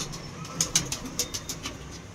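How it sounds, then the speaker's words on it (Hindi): A yellow-eyed Punjabi pigeon gives a series of soft, rhythmic coos, about half a dozen close pulses, over a faint background hiss. "ये पीली आंखों का कबूतर है एक,"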